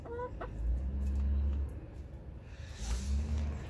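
A chicken clucks in short bursts outdoors, with a low rumble of wind or distant traffic underneath.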